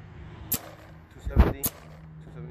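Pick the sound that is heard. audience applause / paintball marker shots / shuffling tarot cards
paintball marker shots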